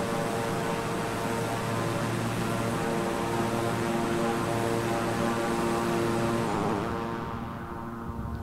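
Simulated propeller drone of a Beechcraft 350i King Air turboprop in Microsoft Flight Simulator, a steady, loud airborne engine roar that shifts and thins toward the end as it passes by.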